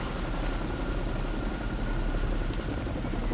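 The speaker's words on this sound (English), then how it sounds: "we're going to see a spectacular display of the handling qualities of the Chinook" A Boeing CH-47 Chinook twin-rotor helicopter in a flying display at a 1981 RAAF Diamond Jubilee gives a loud, continuous rotor thrum with a heavy low-end throb, steady throughout.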